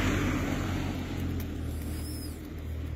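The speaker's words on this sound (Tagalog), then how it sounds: "Dahan-dahan lang yung pagdadrive ng sasakyan." A car drives slowly along a snowy road, giving a steady low engine and tire rumble mixed with a constant broadband wash of noise, like wind or slush. It sounds fairly loud and continuous, with no talking.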